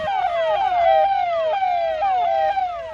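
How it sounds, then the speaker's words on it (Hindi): A forest department vehicle siren wails, cycling rapidly up and down, loud and close, repeating its rising yelp pattern without pause. "वन विभाग की गाड़ियां सायरन बजाते हुए ऐलान करने लगती हैं।"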